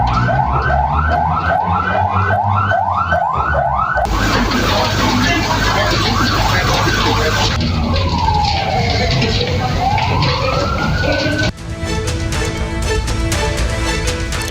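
Fire engine sirens wail at a blaze in a Jambi regional police housing complex, with a distinct rising and falling siren sweep partway through, heard alongside dense crowd and traffic noise that changes across sections.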